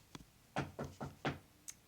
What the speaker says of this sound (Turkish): Ya bu kapı sesi ne ya?